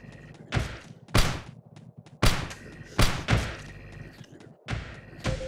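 Nail gun firing in the game Teleglitch: several sharp, punchy thuds spaced irregularly, each a short loud burst with quieter rumbling and clicks between them, no voices.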